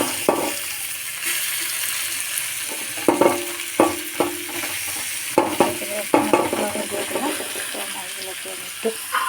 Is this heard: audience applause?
no